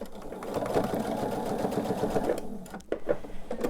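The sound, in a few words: sewing machine binding a quilt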